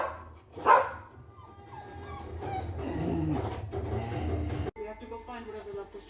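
A dog gives one loud, sharp bark near the start, followed by film sound with voices and rumbling playing in the room.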